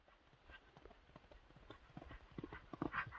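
A racehorse galloping in a horse race, with rapid rhythmic hoofbeats that grow louder as it approaches, heard faintly against a quiet background.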